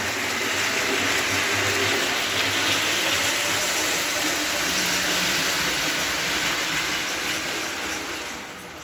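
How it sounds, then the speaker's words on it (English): Restored prewar American Flyer O gauge 1680 Hudson tinplate toy locomotive running steadily, a continuous close whirring motor hum with rattling wheels on track, loud and unbroken for nine seconds with no voices. "a beautiful running locomotive"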